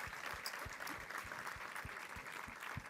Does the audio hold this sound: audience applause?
yes